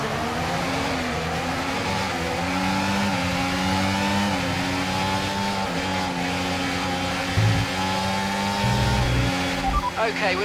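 A Red Bull Formula 1 car engine in the F1 24 racing game at Silverstone in the wet, a steady high-pitched drone rising and falling through gear changes, with a voice talking over it.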